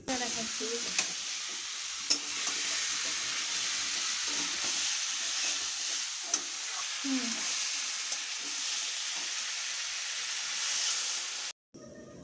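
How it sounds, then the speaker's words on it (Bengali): Mixed vegetables stir-frying with spices in a hot pan, a continuous loud sizzle and hiss with scraping stirs throughout, heard alone. "সবজিগুলোকে বেশ ভালো করে মশলার সাথে ভালো করে নেড়ে চেড়ে নেব।"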